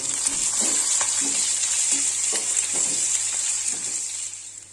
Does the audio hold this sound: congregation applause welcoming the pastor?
no